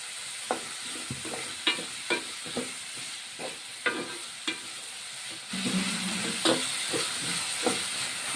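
Onions and green chillies with a pinch of salt sauté in hot oil, a steady sizzle under repeated scrapes and clacks of a stirring spoon, turning louder and fuller partway through.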